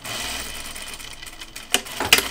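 A domestic sewing machine runs a quick burst stitching long French seams on a shirt dress, a steady mechanical whir close by, followed by a couple of short clicks and rustles near the end.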